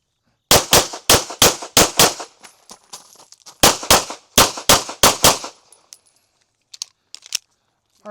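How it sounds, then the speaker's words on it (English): Gunshots from a movement shooting drill engaging three targets with two rounds each: two loud, sharp strings of about six evenly spaced shots, separated by a pause, with a few fainter distant pops after. "We'll shoot from uprange of the sticks, engage the 3 targets, 2 rounds each."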